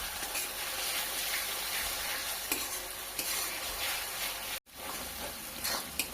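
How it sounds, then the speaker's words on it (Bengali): Ginger garlic paste sizzling and frying steadily in a pan for a chicken curry, a constant crackling hiss with occasional stirring scrapes and a brief dropout near the end, no voices. "আদা রসুনের পেস্ট খুব ভালোভাবে ভেজে নেব যতক্ষণ না এর কাঁচা গন্ধটা চলে যাচ্ছে।"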